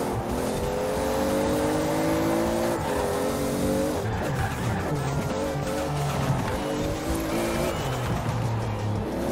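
Toyota Supra in the Forza racing game, its engine revving and shifting through gears with rising, stepping tones, tires squealing at moments, loud and continuous throughout.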